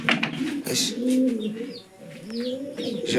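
A Lahori Sirazi pigeon coos in low, rolling calls close by, with soft chirps and rustling between the coos.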